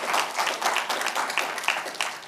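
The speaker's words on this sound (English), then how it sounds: "Charles Hamilton, let's give him a round of applause." Audience applause at a hybrid town hall on climate change and carbon markets in The Bahamas, a steady wash of clapping that carries evenly for a couple of seconds with no voices over it.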